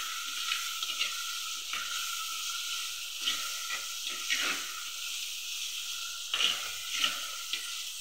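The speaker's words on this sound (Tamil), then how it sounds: "அடுத்தது தக்காளி பச்சை வாசனை போற வரைக்கும் வதங்கணும்" Tomatoes sautéing in a pan give a steady, close frying sizzle, broken by scraping stirs and a few louder bursts of crackle, with no voices.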